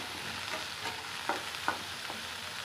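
Ingredients for lemon rice sizzle in a pan over medium heat, a continuous hiss with a few sharp stirring clinks and scrapes spaced across the short stretch.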